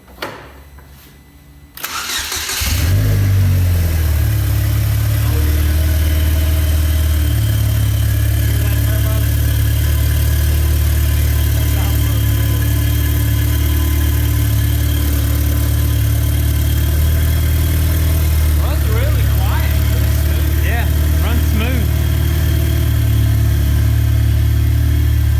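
A salvaged race car's engine with its exhaust fitted cranks briefly, then fires and settles into a loud, steady, rumbling idle that holds for the rest of the stretch, with no talking.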